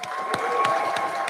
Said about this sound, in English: Wow, big applause there.